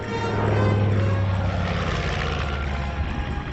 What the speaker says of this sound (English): the Hughes Mammoth aircraft has flown this afternoon in Los Angeles Harbor